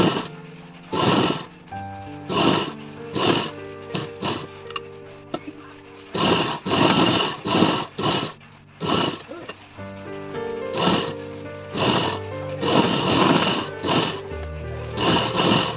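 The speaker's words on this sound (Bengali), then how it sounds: "এই সাইডেও আমি কিন্তু সেলাই দিয়ে চালিয়ে দেবো, সোজাসুজি সেলাইটা চালিয়ে দেবো" A sewing machine runs in repeated short bursts while stitching net saree fabric into a long gown, loud and close, its whirring broken by pauses for repositioning.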